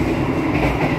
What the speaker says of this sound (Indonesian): kali ini saya sedang berada di bordes kelas ekonomi kereta api Argo Cirebon